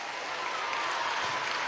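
Audience applause for the local supply and production committees (CLAP) at a 2017 rally with President Maduro and the Madres de la Patria: dense, steady clapping from a large crowd, sustained at an even level throughout.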